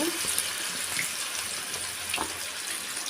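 Cauliflower florets with stems fry in hot oil for Gobi Manchurian, giving a steady, close bubbling sizzle with a few brief pops and no speech.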